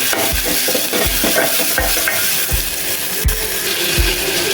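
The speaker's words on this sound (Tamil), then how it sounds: "இப்போ வெங்காயம் போட்டுக்கலாம், தக்காளி போட்டுக்கலாம், ஒரு கிளறி விட்டுக்கலாம்." Onion and tomato frying in a little oil in a pot for sambar, a loud, steady sizzle with regular knocks and scrapes from a stirring spoon, and no voices.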